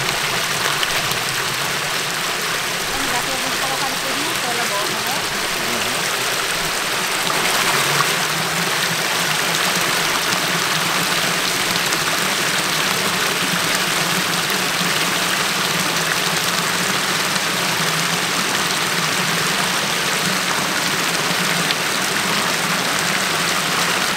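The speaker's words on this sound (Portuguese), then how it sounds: "a água já tá passando por dentro dele, ó. A correntezazinha." Water rushes steadily through a fish pond with net tanks at a lagoon spillway after cleaning, a constant, even, close flowing hiss with no pauses.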